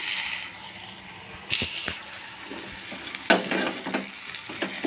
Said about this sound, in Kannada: ಇವನ್ನ ಇದಕ್ಕೆ ಮಿಕ್ಸ್ ಮಾಡ್ಕೊಂಬಿಡ್ತೀನಿ ಈ ಒಗ್ಗರಣೆಗೆ